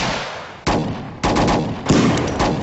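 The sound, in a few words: gunshots fired at police in a film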